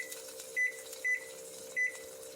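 A kitchen timer gives three short, sharp beeps at uneven intervals over a steady low electrical hum in a kitchen, moderately close, with no talking.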